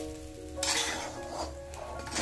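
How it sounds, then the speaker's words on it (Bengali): Rice for white pulao stir-fried in a pan: a steady sizzle with scraping and stirring of a spoon against the metal, close and fairly loud, with no talking. "তো চালটা যতক্ষণ ভাজতে ভাজতে একদম ছাড়া ছাড়া না হয়ে যাবে ততক্ষণ আমি ভাজবো চালটাকে।"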